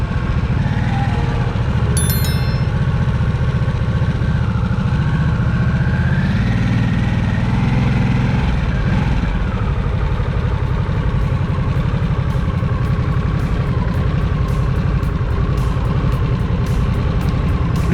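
A 2023 Harley-Davidson Nightster Special motorcycle engine idles close by in a steady, continuous rumble, briefly swelling midway before settling back to an even low throb, with no talking.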